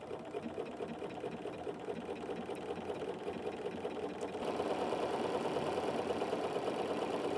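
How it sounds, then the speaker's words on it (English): A sewing machine does heavy top stitching, running back and forth over the same seam, with a steady close rhythmic hum that grows slightly louder and denser partway through. "it is actually stitching over this stitch 3 times in order to give it the heavy look"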